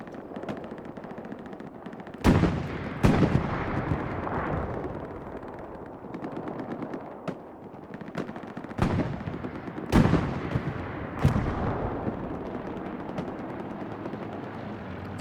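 Tank cannon HE shells and gunfire in the World War II game Hell Let Loose, with several sharp, loud booming shots at irregular intervals over a constant rumble of battle.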